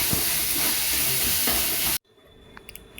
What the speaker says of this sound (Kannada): ಈ ಥರ ಮಿಕ್ಸ್ ಮಾಡಿಕೊಂಡು ಹುರ್ಕೊಬೇಕು ಫ್ಲೇಮ್ ಕಮ್ಮಿ ಇಟ್ಬಿಟ್ಟು ಹುರ್ಕೊಳ್ಳಿ ಚೆನ್ನಾಗಿ ಫ್ರೈ ಆಗುತ್ತೆ